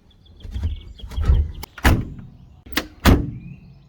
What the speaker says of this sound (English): Those doors actually sound rather good.